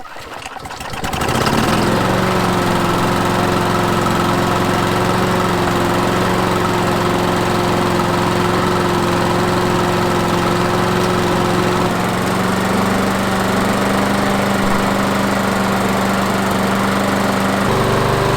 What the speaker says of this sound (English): we'll start up the engine, we'll let it warm up a little bit and then go to full throttle